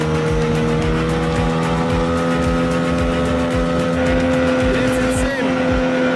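A Vydra motorboat's outboard engine runs steadily while moving downstream, a loud continuous buzzing drone with rhythmic low thumps and a brief squeak near the end.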